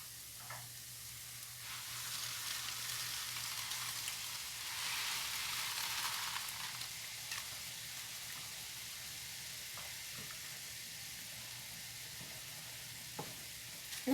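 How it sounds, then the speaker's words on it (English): Water boils steadily in a pot for cooking noodles, a soft continuous bubbling hiss that swells slightly midway, with occasional faint clicks. "Now my water is now boiling"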